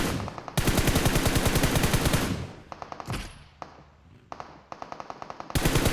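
Rapid automatic gunfire in PUBG Mobile, long dense bursts of shots with short pauses between them, loud and continuous, then a few scattered single shots before another heavy burst.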